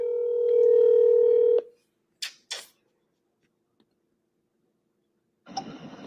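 Phone dialing tones as a call is placed: a steady tone holds for over a second, followed by two short key tones, then silence before a faint burst of line noise at the end.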